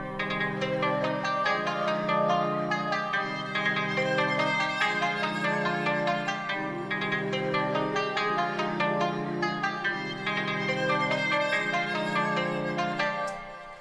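Layered bell synth melodies for a Japanese-style drill beat ring out in repeating bright phrases over a sustained low pad, looping steadily with no drums or voices.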